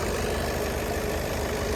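A 2019 Skoda Octavia A7 idles steadily under the open hood, giving a constant low hum with a faint mechanical ticking and no speech.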